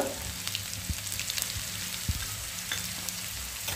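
Turmeric and asafoetida sizzle in hot oil while cooking Marathi ambadyachi bhaji, a steady close frying hiss broken by a few soft taps from stirring.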